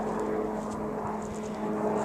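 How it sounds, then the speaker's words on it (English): Steady propeller-aircraft drone passing overhead in remote river hill country, a continuous engine hum with faint rising whir, no talk. "There's planes flying all over the place"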